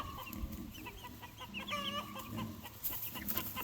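Rhode Island Red and Dominique chickens cluck in short, repeated calls close by, with a busy coop background of overlapping bird sounds and no talking.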